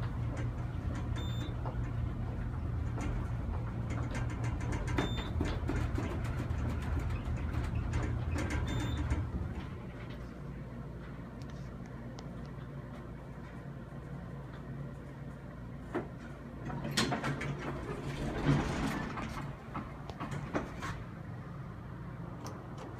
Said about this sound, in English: Former U.S. elevator, still the original motor,